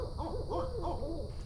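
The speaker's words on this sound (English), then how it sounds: "These are a couple of owls that came in at night." A pair of owls, one male and one female, hoot repeatedly at night in the South Florida woods. The calls are soft, low and rhythmic and sound somewhat distant over steady background noise.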